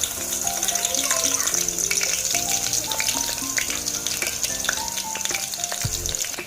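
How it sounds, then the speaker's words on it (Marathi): Garlic sizzling in hot oil in a pot while making an Agri-style prawn curry with ridge gourd, a steady close crackle and hiss throughout with a clink of utensils near the end. "तर मी याच्यात तेल घातलेलं आहे आणि तेल गरम सुद्धा झालेलं आहे। आता लसूण घालूया आपण त्यात।"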